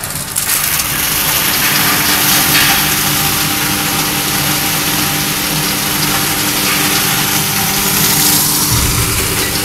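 A universal crusher machine runs with a loud, continuous engine drone and grinding rumble, steady and close throughout with no pauses.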